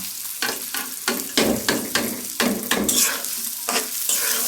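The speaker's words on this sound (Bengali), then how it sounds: "ভেজে নিয়ে আমরা এর মধ্যে পোলার চালটা দিয়ে ভেজে নেব" Pilau rice grains being fried and stirred in a pan, a steady sizzle broken by repeated scraping stirs at an irregular rhythm, close and fairly loud with no talking.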